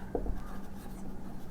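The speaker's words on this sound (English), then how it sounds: "We have to write the coordinates" A pen writes coordinates on paper during a geometry lesson, giving a soft, close scratching and scraping that runs steadily for a moment with no talking.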